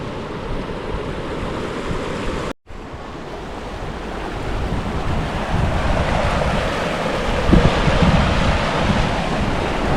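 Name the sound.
rushing river water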